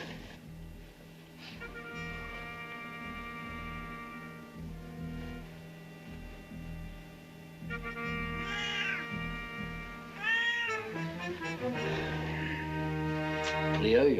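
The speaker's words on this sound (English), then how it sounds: "you're a silly old fat cat." A fat cat meows several times in drawn-out, rising and falling calls, growing louder and more insistent toward the end, over steady background music in a 1970s TV series scene.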